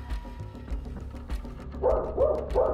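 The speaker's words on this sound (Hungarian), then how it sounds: "Nekem ugat!" A dog barks in a short sequence of yips and barks, moderately loud and close, with a steady low rhythmic background underneath and no speech.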